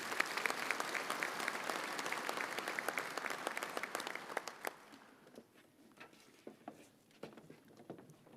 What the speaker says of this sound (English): Let's have a round of applause for our Collegiate Athletes of the Year.